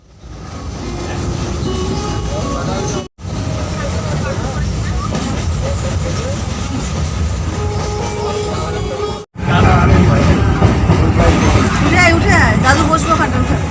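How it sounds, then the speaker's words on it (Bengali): A passenger train rolls along the rails on a trip toward Sheoraphuli and Tarakeswar, with a loud, continuous rumble and clatter heard from inside the coach and a background babble of passengers. "সবাই মিলে একসঙ্গে ট্রেনে করে যাচ্ছি"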